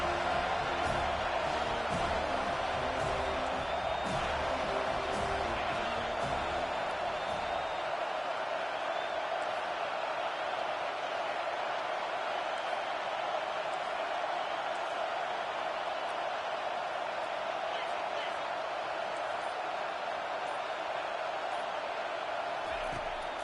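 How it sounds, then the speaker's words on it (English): A stadium crowd in a college football video game, FSU versus UNC, roars steadily throughout as a continuous loud wash of cheering, with a deeper rumble at first that thins out after a few seconds. "this crowd trying to help keep them there"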